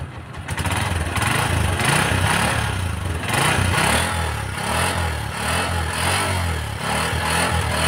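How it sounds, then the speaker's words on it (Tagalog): Honda TMX 125 motorcycle set up as a street bike, its engine idling steadily through the exhaust pipe after a quick start, a close, continuous low rumble with slight pulsing and no talk. "Ito mga guys, yung tunog ng pipe niya."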